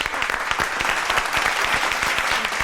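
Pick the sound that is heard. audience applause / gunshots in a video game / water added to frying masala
audience applause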